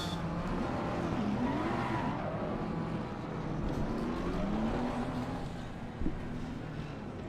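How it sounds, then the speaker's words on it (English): Race car engines rumble and rev in Assetto Corsa Competizione at a rolling race start, several gliding pitch sweeps rising and falling over a continuous low drone, with a brief sharp thump near the end. "gentlemen, start your engines"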